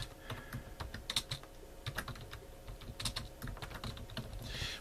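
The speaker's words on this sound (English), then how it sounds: "I'm typing it right now." Irregular bursts of keystrokes on a computer keyboard, close and fairly quiet, with short pauses between flurries of clicks.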